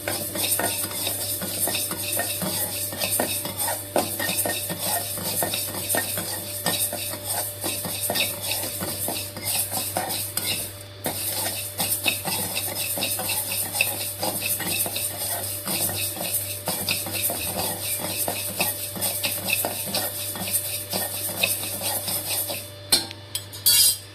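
Rice dry roasting with cumin in a pan, with a spoon scraping and stirring constantly, some light sizzling, and close rhythmic rubbing against the metal throughout, with no talking.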